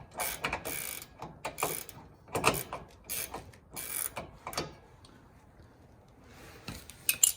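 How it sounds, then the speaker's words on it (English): Hand ratchet threading a bolt into a rear camber arm on a 10th-generation Honda Civic Type R: quick clusters of sharp metallic clicks in uneven bursts, close and crisp, fading to quieter handling noise near the end. "just start threading your bolt in"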